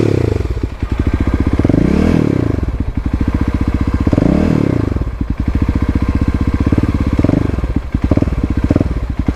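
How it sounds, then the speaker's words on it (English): A Kawasaki KLX351 dual-sport motorcycle engine revs in a few loud, close throttle blips, each rising and falling, over a steady idling thump, with no talking. "I don't think I'd need more than a couple of blips to get the bike going in any sort of situation"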